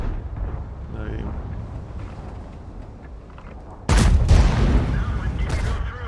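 A WZ 55 tank in a video game fires a shell, one sudden loud boom about two-thirds in with a rumbling tail, over steady in-game engine noise and some talk.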